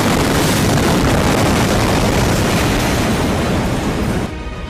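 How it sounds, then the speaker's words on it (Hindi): The massive Beirut port explosion captured from a car dashcam: a huge, sustained roaring blast wave fills everything with loud broadband rumble for several seconds before dropping off abruptly. "तभी एक बड़ा धमाका हो गया"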